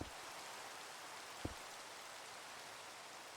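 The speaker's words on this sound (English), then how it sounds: "More rain." Rain falls in Minecraft as a faint, steady hiss of static-like patter with one brief tap partway through and no talking.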